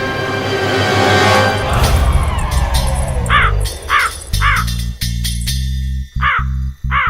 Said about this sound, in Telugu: కాకి